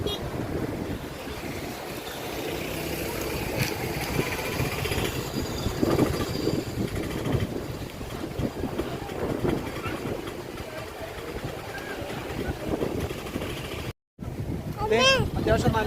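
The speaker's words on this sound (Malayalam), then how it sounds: "അത്യാവശ്യം നല്ല കാറ്റുണ്ട്" Strong wind on a cold, rainy day in Munnar, buffeting the microphone with a constant low roar and gusty rumble over nearly sixteen seconds; a brief voice-like sound rises near the end.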